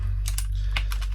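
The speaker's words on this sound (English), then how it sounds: "This is called a mechanical keyboard. That's that sound you hear." Mechanical keyboard with blue switches being typed on up close, giving loud, crisp clicks in a few quick keystrokes over a steady low electrical hum.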